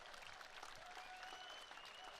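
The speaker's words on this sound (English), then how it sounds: "The officials are getting a big round of applause." A large crowd at a women's beach volleyball gold medal match in Edmonton applauds the match officials, with steady, dense clapping and some cheering that holds at an even level throughout, heard from a distance.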